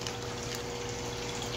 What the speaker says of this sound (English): We got a huge leak. You can see the water spraying on the floor.